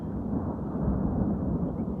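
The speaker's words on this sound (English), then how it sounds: "So there should be thunder coming then." Low rumbling thunder following a lightning flash rolls steadily for about two seconds, a broad, continuous growl with no voices over it.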